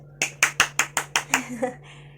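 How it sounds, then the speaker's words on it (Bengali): Hands clapping at home in a rhythmic run of about seven sharp close claps, evenly spaced then softening, while a voice talks over them. "হাততালি হ্যাঁ, সবাই ক্লাপ ক্লাপ ক্লাপ"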